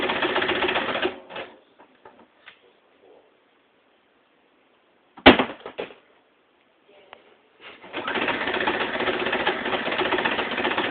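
A sewing machine runs a zigzag stitch through fleece in steady rapid bursts, loud at the start and end, with quiet pauses, faint handling noises and a sharp clunk in between.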